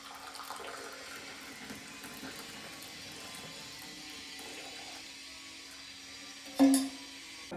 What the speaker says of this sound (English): Let's just try to pour it in a glass.